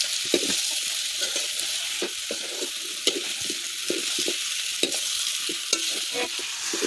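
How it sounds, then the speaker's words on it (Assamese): Pieces of home-raised duck meat frying with potatoes in a pan, a steady close sizzle broken by repeated scraping stirs with no one talking. "মাংসখিনি দি দিলোঁ এতিয়া অলপ টাইম ভাজি লৈছোঁ"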